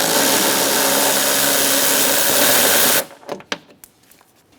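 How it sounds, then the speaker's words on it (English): A power tool removes a nut from the window regulator of a 2004-2009 Mazda 3 during a front power window motor replacement. It makes a loud, steady whirring burst for about three seconds, then stops, leaving a few faint clicks and knocks. "Now we can take out this nut."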